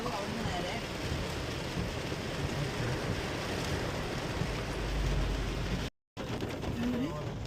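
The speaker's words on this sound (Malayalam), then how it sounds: "നല്ല മഴയാണ് സൂപ്പർ മഴ" Heavy rain pours down in Pala, Kerala, in a dense, steady roar that holds constant throughout, briefly cut off by a short dropout near the end.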